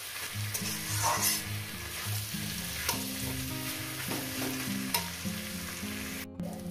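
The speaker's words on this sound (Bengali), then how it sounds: "দেখছেন আমি কিভাবে এটা রান্না করছি, ভেজে নিচ্ছি চিকেনটাকে" Chicken frying in a pan for a bharta dish, a steady close sizzle of hot oil with stirring scrapes and occasional utensil knocks, no voices.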